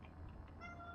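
A house cat lets out a clear, close meow, a short drawn-out cry filling the brief moment with no voices over it.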